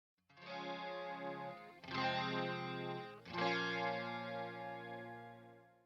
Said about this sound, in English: it's just again the clean amp, and then I used the chorus pedal, the tone pedal, and I added some reverb.